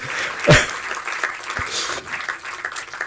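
At a book launch event, an audience breaks into a burst of applause, loud and dense at first and then thinning into scattered clapping.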